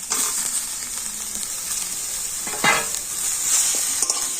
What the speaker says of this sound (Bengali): তো আলু আর এটা পেঁয়াজের সময় কিন্তু একটু ভাজা ভাজা করে নেবে